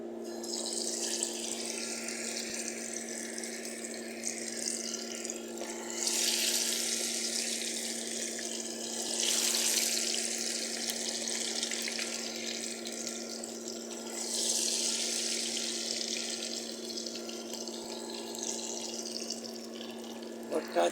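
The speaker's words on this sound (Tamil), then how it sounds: "கோழி அப்படியே பொரியட்டும்," Chicken frying in a pan during home cooking gives a steady close sizzle that swells louder several times, with no one talking over it.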